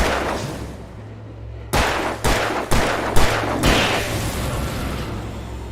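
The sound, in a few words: gunshots in video game Alan Wake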